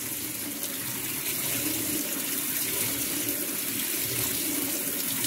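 Prawns being cooled in cold water, heard as a steady, close rush of running water like a tap filling a bowl, continuous throughout and without talk.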